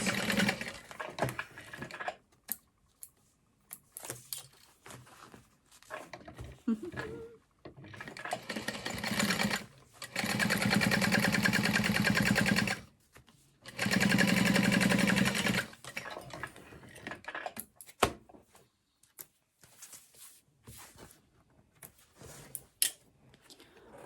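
A sewing machine topstitches through a fabric crossbody bag in bursts, with two long steady runs of fast close stitching between stretches of short stops, clicks and handling noises.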